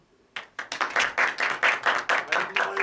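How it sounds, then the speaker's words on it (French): A small improv-show audience at a Paris festival breaks into clapping, starting abruptly after a brief pause and continuing as a rhythmic, fairly close patter of hands with a few strong bursts. "Applaudissez,"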